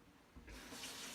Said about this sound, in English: They're gonna pour a glass of smart water